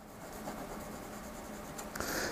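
A large all-lead pencil shades across paper in a steady, continuous scratchy rub, close and fairly soft, with a slightly brighter stroke near the end.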